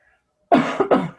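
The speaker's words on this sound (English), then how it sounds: "I had to cough all the way through that" A single harsh cough bursting out after a brief silence, followed by a second quick cough, close and loud.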